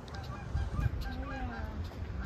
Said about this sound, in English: There goes some geese.